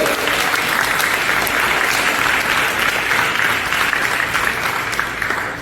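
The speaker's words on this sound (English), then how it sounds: "please give yourselves a round of applause" A crowd gathered to hear a Trinidad and Tobago member of parliament applauds at length, a thick, sustained wash of many hands clapping that holds loud and even before tapering at the end.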